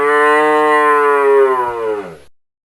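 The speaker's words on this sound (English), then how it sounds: "A cow moos." A single cow moos once, a loud, close, drawn-out call that slides down in pitch and fades over about two seconds.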